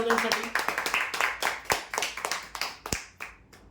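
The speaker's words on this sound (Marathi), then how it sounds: "जोरदार टाळ्या" Clapping from a small gathered crowd greets the final winner of a prize draw, a burst of uneven hand claps that thins out and fades over a few seconds, with a voice briefly heard over it.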